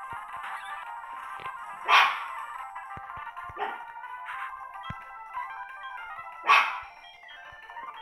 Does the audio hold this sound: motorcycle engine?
no